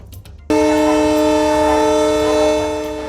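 The Triveni Express, running late, sounds a loud sustained horn at a railway station; the blast starts abruptly and holds steady for nearly three seconds before slowly fading.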